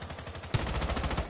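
Video game weapon firing while testing recoil, a quiet stretch of rapid faint shots followed by a louder, closer burst of automatic gunfire with evenly spaced reports, no talking.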